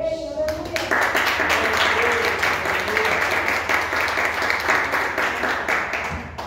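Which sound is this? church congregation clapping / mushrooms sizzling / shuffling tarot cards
church congregation clapping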